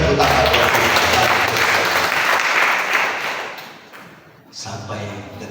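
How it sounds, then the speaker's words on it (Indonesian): A church congregation bursting into loud applause, dense clapping that fades out after a few seconds before a brief renewed burst. "Berikan tepuk tangan buat Tuhan"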